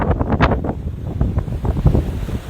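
Strong gusting wind buffets the microphone in rough bursts, with the roar of surf and waves beneath it and no voices, at the Belair sea cliffs.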